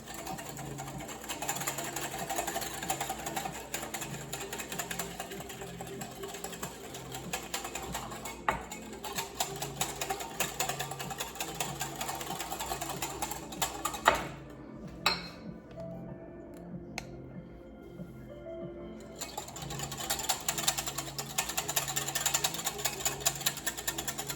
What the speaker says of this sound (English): I'm gonna whisk it for 2 minutes.